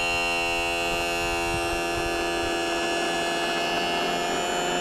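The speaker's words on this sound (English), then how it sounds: "the first thing you want to do is raise your motor all the way up" A Mercury outboard motor's electric tilt and trim motor runs continuously while raising the motor, a loud, steady whining buzz with a dense harmonic hum held for several seconds.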